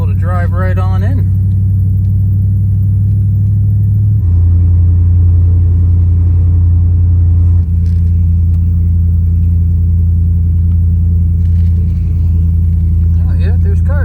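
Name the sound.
car driving in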